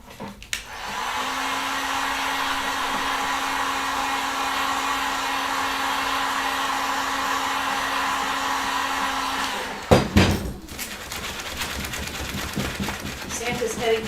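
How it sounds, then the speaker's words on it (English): A heat gun, used on a dark winter wreath craft, runs with a loud, steady whirring blow for about nine seconds, then cuts off abruptly with a clatter, leaving quieter handling noises and faint voices. "So you really have to do it almost in front of the heat gun."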